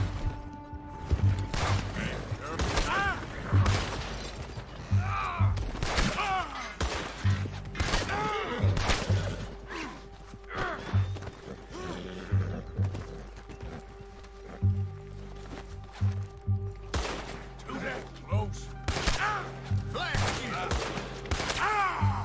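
Gunfire in Red Dead Redemption 2 as soldiers of the United States Army are fought: repeated sharp shots and bursts of a shootout, with hoofbeats, thuds and crashes, loud and close, amid game music and a few brief voices.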